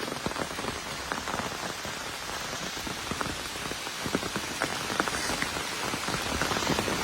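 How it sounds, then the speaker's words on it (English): Steady rain patters densely on a surface nearby on the Appalachian Trail during a storm, a constant hiss with scattered individual drops, no voices. "it started raining"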